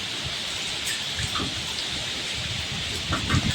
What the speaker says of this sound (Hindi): अब बारिश हो रही है, ओले पड़ रहे हैं